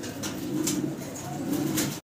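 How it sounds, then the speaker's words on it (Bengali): Fancy Danish pigeons coo steadily and close by, a continuous low rolling murmur with a few brighter calls over it. "দর্শক ভিডিও স্ক্রিনে আপনারা দেখতেছেন ড্যানিশ কবুতর"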